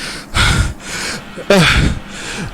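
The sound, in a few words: voice imitating a gnome panting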